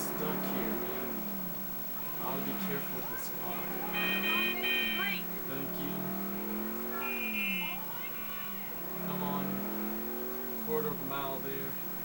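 A sluggish car in the video game GTA 4 is floored, its engine revving in repeated rising and falling surges beneath someone talking over it.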